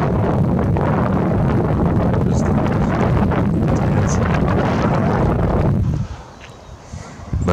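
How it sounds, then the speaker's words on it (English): Wind blows in a strong outdoor breeze, buffeting the microphone with loud, continuous rumbling gusts that drop off suddenly near the end. "Nice little breeze blowing in"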